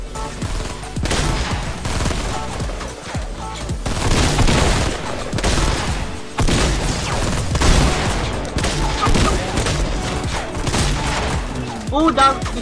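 Rapid, loud gunfire and explosive booms in a Fortnite Battle Royale match, continuous bursts filling the stretch as a player's voice breaks in over the shooting.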